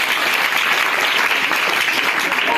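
Loud, dense applause from a group at a school general-knowledge quiz in India, continuous clapping filling the whole moment without pause.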